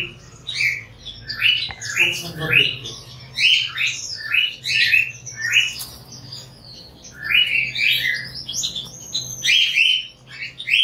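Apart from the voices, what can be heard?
cockatiel birds chirping and squawking in an aviary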